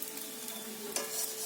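Sarchakuli pitha, a thin rice-batter pancake, frying in mustard oil in a pan, giving a steady close sizzle with a brief louder crackle near the end and no talk.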